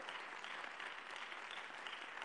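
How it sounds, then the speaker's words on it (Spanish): Audience applause at a National Theatre Day celebration at the Filven 2020 book fair, a steady, faint wash of many hands clapping heard from a distance without a break. "pido fuerte aplauso"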